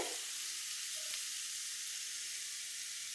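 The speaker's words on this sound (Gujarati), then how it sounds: "સહેજ કાચું છે એટલે 5 મિનિટ આપણે હજી શેકાવા દઈશું ધીમા ગેસે" Grated carrot halwa roasts in a pan over low gas with a steady, even sizzle and hiss, close and continuous, with a faint scrape of stirring and no talk.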